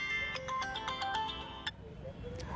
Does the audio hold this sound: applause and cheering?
no